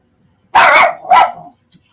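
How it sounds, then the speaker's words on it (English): A dog gives two loud, close barks, the first longer and the second shorter, followed by a faint small yip, all set against an otherwise quiet indoor room. "There's my dog."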